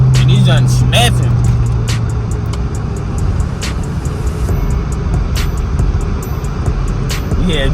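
A Chevrolet Camaro SS with a crackles-and-pops exhaust tune drives along, its engine droning loud and close while sharp intermittent crackles burst out over the steady rumble.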